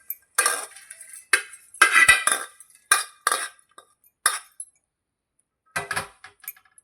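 Fried curry leaves are tipped into a vessel, giving a string of short metallic clinks and scrapes of a spoon against a pan, separated by silent gaps.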